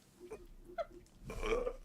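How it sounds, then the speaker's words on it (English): A single short, low burp sounds close and fairly quiet against a faint background, followed by a longer, rougher belch-like rumble. "Did you just burp?"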